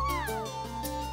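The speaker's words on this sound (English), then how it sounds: "Yes, that was a cat." A cartoon cat meows in the painting adventure game Chicory, a single drawn-out, wavering call heard clearly against a quiet background with no talking.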